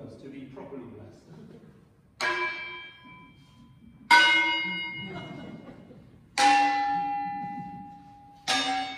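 Newly blessed church bells at St Julitta's Church in Lanteglos-by-Camelford, Cornwall, sound four separate loud, ringing strikes about two seconds apart, each tone decaying slowly before the next.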